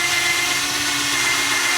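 A power drill with a 1 cm bit bores holes into a container, a steady, loud, high-pitched whine grinding on without a break and with no talking.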